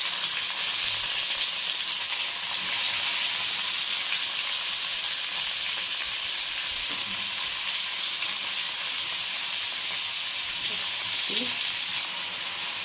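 Onions and tomatoes fry in hot oil in a pan, a loud, steady close sizzle and hiss with a few faint stirring knocks and no talk.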